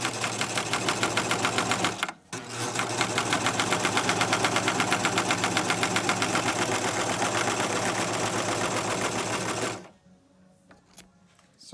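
A serger stitches fabric around a corner, its rapid, regular mechanical chatter running close and steady for about ten seconds, broken by one brief pause, then stopping and leaving near silence.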